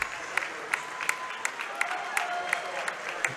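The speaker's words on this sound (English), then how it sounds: "He gets a nice hand from the Port Edwards faithful and for the Pacelli crowd too." A crowd at a high school boys' regional final basketball game applauds steadily throughout, a dense wash of clapping with sharper individual claps standing out, while a commentator talks over it.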